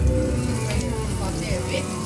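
Garlic and chili sizzle hard in hot oil, a loud, dense crackle that holds steady throughout at close range.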